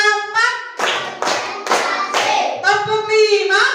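Children in a classroom clap their hands together in time during a counting ice-breaker game. Several sharp, loud group claps land in a steady rhythm, with voices calling out between and around them.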